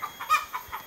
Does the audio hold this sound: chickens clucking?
yes